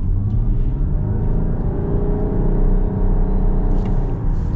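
A 2023 Chrysler Pacifica Hybrid minivan with 260 horsepower accelerating hard, heard from inside as a steady, loud engine drone and rising whir that climbs smoothly in pitch with no talking.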